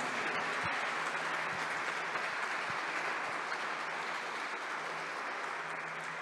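Steady applause from a conference audience at an AI and robotics tech talk, continuous even clapping heard at a moderate distance with no talk.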